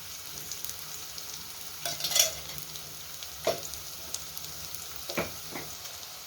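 Onion and garlic sauté in a generous amount of oil for a fish curry, a faint steady sizzle with occasional soft stirring scrapes and clinks, no voices.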